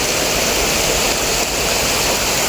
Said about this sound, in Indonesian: Ada sungai kecil di sini mengalir sana.